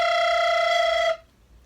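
Recorder played with tongue flutter, a single steady buzzing, trilled note held for about a second, loud and close, then cutting off into quiet.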